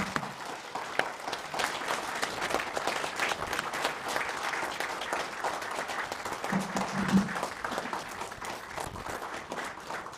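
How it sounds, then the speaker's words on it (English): Sustained audience applause fills a hall at a golden anniversary ceremony for the University of Nairobi medical class of 1978, a dense, steady wash of many hands clapping for about ten seconds. "give a clap to the class of 78, their teachers, their friends, and their families who are here today"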